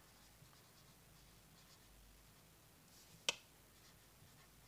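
Faint scratchy marks of someone writing out a geometry problem about an equilateral triangle's angles, quiet and steady, with a single sharper tap of the pen or marker partway through.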